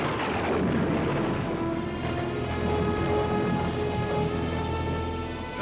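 Steady heavy rain pours down at night, a dense continuous hiss and patter on surfaces with a low rumbling undertone, loud and unbroken throughout.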